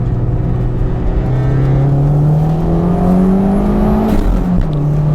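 A Toyota MR2 Turbo with an E153 limited-slip differential pulls hard in second gear on a mountain road, its engine note rising steadily from inside the car, then briefly dipping and recovering near the end.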